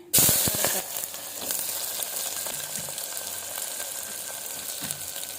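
Homemade dried fenugreek leaves (kasuri methi) hit hot oil in a pan with a loud sudden burst of sizzle that settles into a steady, close frying hiss.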